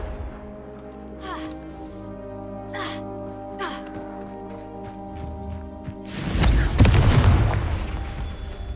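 Blasting curse in Hogwarts Legacy: a loud, broadband burst erupts near the end with a booming low rumble and crackling debris, following a stretch of quieter game ambience and sharp magical zaps.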